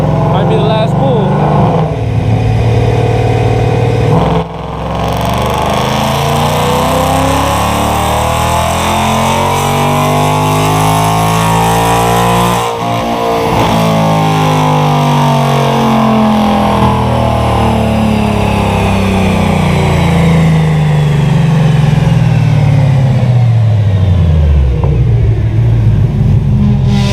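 A car engine on a dynamometer during a full power pull, loud and close, revving steadily up through the range with a brief break near the start, then climbing again before dropping off, while someone talks over it.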